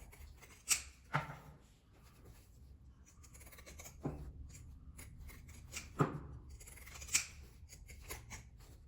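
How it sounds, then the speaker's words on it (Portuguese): Pinking shears snip through fabric close by, giving a handful of crisp, quiet cuts at irregular intervals over soft rustling, with no talk. "eu já vou recortar com a tesoura de picotar"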